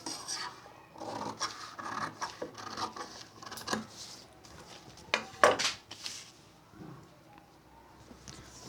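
Scissors cutting through fabric for a blouse sleeve on a tabletop, a close, soft rasping and snipping with irregular scrapes and a few sharper clicks, faint throughout.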